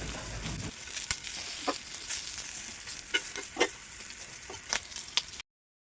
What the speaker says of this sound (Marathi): सगळ्या मिरच्या मी पलटून घेतलेली आहे